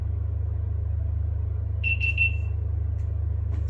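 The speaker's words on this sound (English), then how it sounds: "3 beeps means it's powering up." A GoPro action camera chirps three short high beeps in quick succession while powering up, close and clear over a constant low hum.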